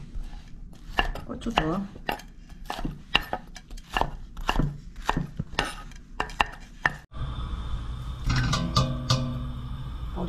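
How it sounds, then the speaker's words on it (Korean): A knife chops vegetables for spicy yellowtail soup, sharp irregular thuds on a cutting board at close range. Then comes a clatter of dishes and utensils, with a brief spoken word partway through. "크게 그냥 썰어주세요"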